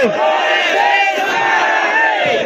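A crowd at a tribal farmers' and labourers' mahapanchayat roars the Jai Johar slogan in unison: a loud, sustained mass shout of many voices, close and overlapping, filling the whole moment.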